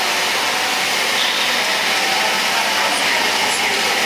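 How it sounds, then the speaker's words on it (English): A drop FTTH optical fiber cable extrusion production line runs in a factory hall, giving a constant, even mechanical whir and hiss with no breaks. "This is the complete production line for the FTTH cables"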